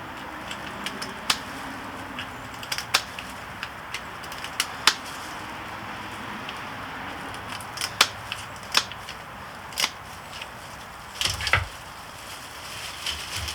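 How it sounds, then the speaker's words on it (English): Kitchen scissors snip through a lobster shell in a run of short, sharp, irregular cuts and cracks, close up and without talk. "And go ahead and start cutting. Hopefully in this process you don't cut the meat of the lobster too much."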